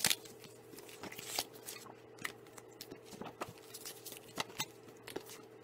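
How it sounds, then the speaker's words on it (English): Label cards for Scentsy samples being snapped and torn along their edges, a string of small crisp cracks and papery rustles, close and quiet with no talking. "you want to break off the edges of the cards"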